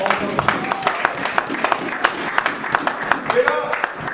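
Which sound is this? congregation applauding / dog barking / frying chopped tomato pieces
congregation applauding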